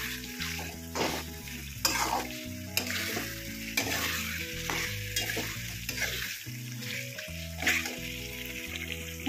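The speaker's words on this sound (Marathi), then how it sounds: "छानपैकी असं 5 मिनिटं याला मस्त फिरवत फिरवत याला भाजायचंय." Masala roasting in a pan for several minutes while being stirred continuously, with a steady close sizzle and repeated scraping strokes of the spoon against the metal, alone over a music bed.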